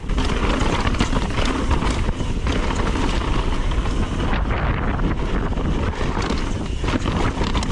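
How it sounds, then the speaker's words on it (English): Strong wind roars and buffets the microphone during a fast mountain bike descent along a cliff edge, a loud, constant rushing with no talk. "Ooh, that wind!"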